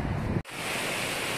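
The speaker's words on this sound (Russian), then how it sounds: "Водопад Махунсети. Самый высокий водопад Аджарии." Makhuntseti waterfall, the tallest in Adjara, roars as a dense, steady wash of falling water, loud and close, broken only by a brief dip near the start, with no voices.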